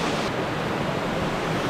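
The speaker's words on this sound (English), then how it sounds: "Look, look at the waterfall right there." A waterfall near Table Rock and a pond in Vermont gives a steady, dense rush of falling water, loud and unbroken throughout.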